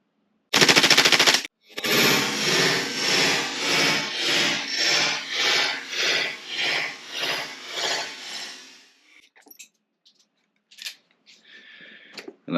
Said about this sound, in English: Obviously we are shooting some full auto here, so yeah, a little bit faster with the PMAG.